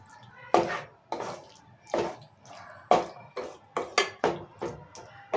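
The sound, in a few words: mixing chicken pieces with spices in a pan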